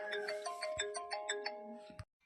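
An incoming-call ringtone chimes in a quick repeating melodic pattern of bright tones, clear and close, then cuts off abruptly near the end.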